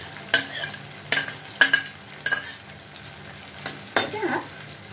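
Onions and tomatoes fry in a pan while a utensil stirs them. A soft sizzle runs underneath several distinct scraping strokes at an uneven rhythm, and nobody speaks.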